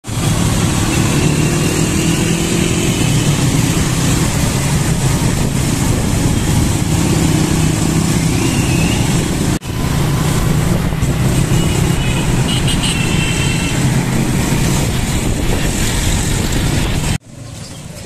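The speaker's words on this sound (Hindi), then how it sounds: "ट्रैफिक में हूँ ज़रा मैं इस वक्त" A motorbike rides through busy street traffic on the way to Hall Road market. Loud, steady engine and wind roar fill the whole stretch, with a brief dip partway through and a drop near the end.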